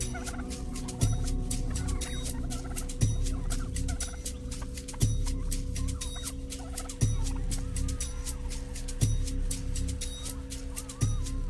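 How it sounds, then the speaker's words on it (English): An Australian brush turkey calls in bushland, giving deep, resonant gobbling grunts repeated about every two seconds, close and loud, over a dense, steady chorus of insects and other birds. "the often annoying and always confronting brush turkey"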